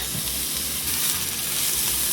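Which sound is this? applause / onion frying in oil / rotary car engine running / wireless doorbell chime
onion frying in oil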